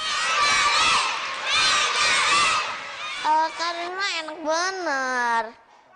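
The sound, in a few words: students cheering classmates playing soccer and basketball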